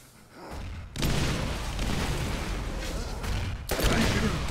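Sustained, dense gunfire from the video game Borderlands, loud and continuous with bursts of shots, briefly dropping near the start and again toward the end before resuming.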